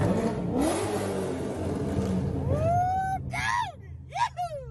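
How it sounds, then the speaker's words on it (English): A C6 Corvette engine revs under a bridge, rising in a quick climb that echoes off the structure, with a voice talking over the car. "we're gonna give her a little rev under this bridge"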